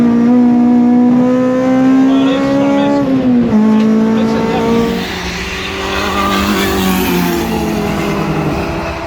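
A race car with titanium valve springs, lapping a track during a Forge action day, screams at sustained high revs close up. The engine holds near its peak, dips briefly, then climbs and hovers again, loud and continuous.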